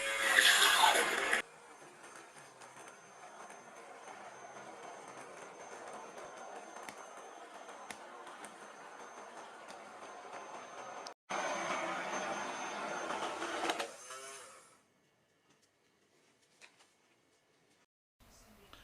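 A blender whirs through potato and leek soup in two loud, steady bursts, the motor droning for several seconds, stopping briefly, then running again before falling silent.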